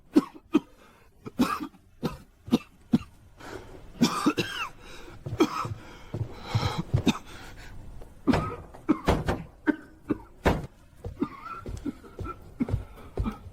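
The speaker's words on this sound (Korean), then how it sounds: "저희 왕께서 기침을 심하게 하십니다" A man coughs heavily and repeatedly in a royal palace drama setting, harsh hacking bursts of coughs and throat clearing spread across the whole stretch, close and loud.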